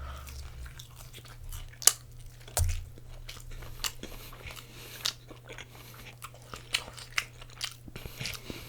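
Close, crisp chewing and crunching of a spring roll and shumai, with irregular bites, wet squishes and crackles spread across several seconds against a low steady hum, no talking.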